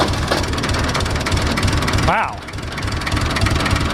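A Long 460DT tractor's diesel engine cranks and catches on a cold start after sitting unused, a steady low rumble with a brief dip as it fires, a voice exclaiming over it.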